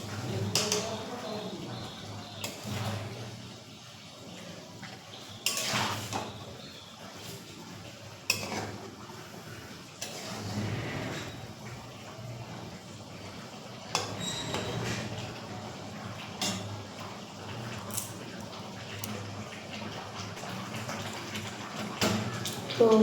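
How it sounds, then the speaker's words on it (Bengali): Chicken curry is stirred in a cooking pot, with repeated scraping and clanking of a utensil against the metal through a steady kitchen background, a voice talking over it. "এবার মাংসটাকে ভালো করে একটু নাড়াচাড়া করে নেব।"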